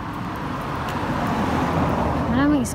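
Street traffic on a city road near schools, a steady rumble of passing cars and buses with a brief horn-like tone near the end, heard close while someone walks along.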